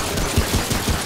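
Rapid gunfire from a video game, Remnant: From the Ashes, with a quick burst of several loud, evenly spaced shots in close succession.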